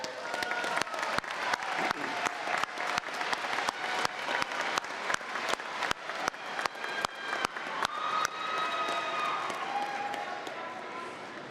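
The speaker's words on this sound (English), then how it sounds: "Let's give them a round of applause" Crowd applause at a college commencement ceremony, honouring graduates' families and friends: sharp individual claps stand out up close against a steady wash of clapping from a large audience.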